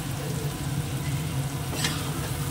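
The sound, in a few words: onion frying in a pan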